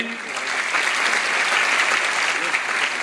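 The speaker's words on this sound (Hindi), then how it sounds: "बहुत बहुत तालियां बजे" An audience applauds loudly at a public ceremony in Uttar Pradesh, a thick, continuous burst of clapping from a large crowd filling the whole moment.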